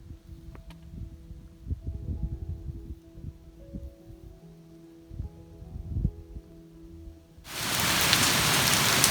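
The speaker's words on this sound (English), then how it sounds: "Just catching the end of the hailstorm" Hail and rain fall outdoors: scattered drops and light pattering at first, then a sudden, loud, dense hiss of heavy downfall that holds steady to the end.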